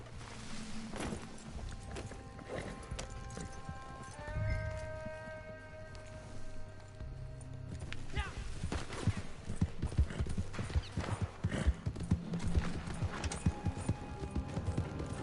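Horse hooves clip-clop steadily in Red Dead Redemption 2 Online, a continuous walking rhythm over music that grows busier and louder in the second half.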